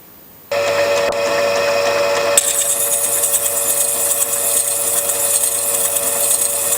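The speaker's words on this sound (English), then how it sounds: "So here I'm polishing the table, which is this section of the stone." Grinding wheel polishing the table facet of a gemstone, a steady high whirring after a motor starts, the pitch brightening as the stone is pressed to the lap, with no voices.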